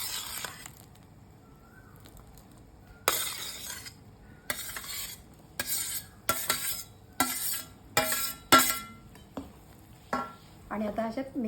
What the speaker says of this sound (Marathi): आपण त्या सगळ्या भाज्या टाकू याच्यात.